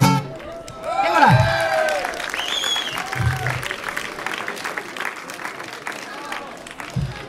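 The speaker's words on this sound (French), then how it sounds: "Non, bah applaudis pas trop ça non plus" A crowd applauds at an outdoor charity flea market in Besançon, with scattered clapping rising and thinning over several seconds. A voice talks and sings over and between the claps.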